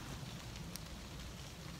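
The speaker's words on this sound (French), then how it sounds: "il pleut depuis ce matin à 6h du mat" Steady rain falling at a bushcraft camp in northern woods, a dense even hiss of drops close to the microphone with faint wind, no speech.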